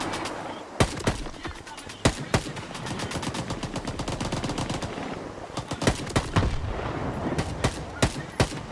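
Gunfire in S.T.A.L.K.E.R. 2, with loud rapid shots cracking over a busy battle backdrop. Single and clustered bursts repeat in an irregular rhythm with no talk.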